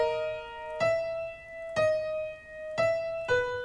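A synth melody for a rap beat programmed in FL Studio 20 plays alone as sustained bright tones that shift pitch in blocks with a soft low thump at each change.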